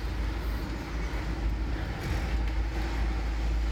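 Road traffic near a city street at lunchtime makes a steady, loud rumble and wash of passing cars, continuous throughout with no talk.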